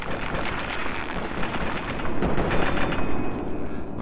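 Rapid gunfire from the video game Fallout 3, a dense burst of repeated shots running continuously and loudly for several seconds with no speech.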